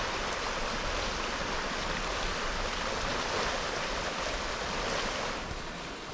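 The River Goyt flowing past industrial mill country, a steady broadband rush of water that stays loud and even throughout, fading slightly at the end, with no voices.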